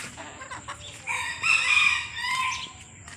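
A native chicken crows loudly and close, a rising rooster call that swells and fades, with soft clucking around it on a rural farm.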